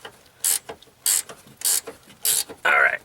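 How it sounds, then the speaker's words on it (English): A ratchet loosens a nut on a transmission mount of a 2005 Neon in close, loud bursts: five quick clicking runs separated by short pauses, the last one longer. "I gotta pull this nut off."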